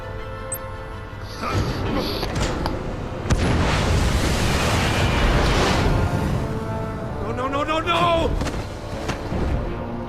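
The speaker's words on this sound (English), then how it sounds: "I was trapped to protect Iman and myself from the explosion" In the Batman: The Enemy Within video game, an explosion erupts with a heavy boom and sustained crashing rumble, followed by rattling debris and further bursts, loud and close throughout.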